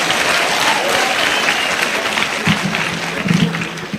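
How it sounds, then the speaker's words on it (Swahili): A crowd claps steadily for a governor at a Kenyan political gathering, broad sustained applause filling the whole stretch with a few louder bursts toward the end. "Makofi tena ya governor."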